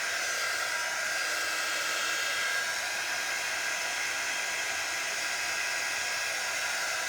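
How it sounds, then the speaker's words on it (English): Handheld craft heat tool blowing warm air over wet paint, a steady close hiss of airflow with a faint whine, constant in level throughout and with no speech. "I have my heat tool right over here. I'm going to go ahead and dry it"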